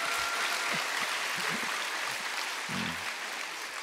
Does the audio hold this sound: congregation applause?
yes